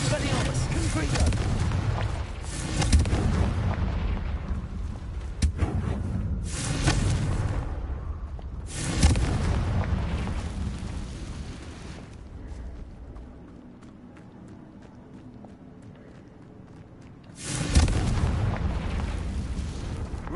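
Confringo blasting spells in the Hogwarts Legacy video game go off as repeated deep booming explosions, each a loud burst trailing into rumble, spaced several seconds apart with a quieter lull between, and a voice speaks among them.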